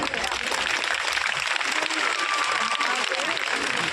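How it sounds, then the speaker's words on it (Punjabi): A crowd claps steadily to welcome a guest at the inauguration of a new government school building in Sahnewal, with dense, continuous applause filling the whole stretch at an even level. "ਤਾੜੀਆਂ ਦੇ ਨਾਲ ਸਵਾਗਤ"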